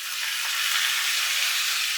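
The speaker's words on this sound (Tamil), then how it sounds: "தக்காளி வந்து அந்த எண்ணெயில் கூட இருக்கக்கூடிய வெங்காயம், பூண்டு எல்லாமா சேர்ந்து நல்லாவே வதங்கட்டும்" Ripe native tomatoes sauté in hot oil with onion and garlic, giving a steady, close, broadband sizzle that holds an even level throughout with no voices.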